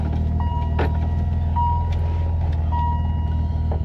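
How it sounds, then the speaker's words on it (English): A car backs up in front of a garage, its engine holding a loud, steady low idle throughout while a few faint higher beeps ring out over it. "Let's get her backed up here in front of the garage so I can do some test spots."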